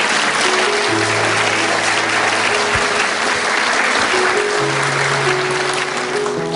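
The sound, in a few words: audience applause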